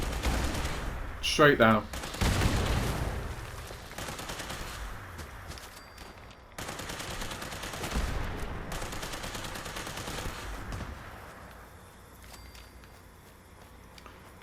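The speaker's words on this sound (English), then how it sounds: "Explosive Tesla rifle." An explosive Tesla rifle fires in the video game Fallout 76, dense crackling bursts layered with booming impacts over a rumbling background, with someone speaking briefly.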